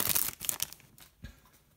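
A hockey card pack wrapper is torn open up close, a bright ripping burst followed by softer crinkles and one more short tear, with no talking.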